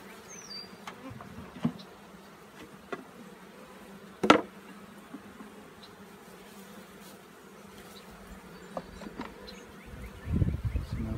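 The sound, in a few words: honeybees buzzing around an opened swarm trap hive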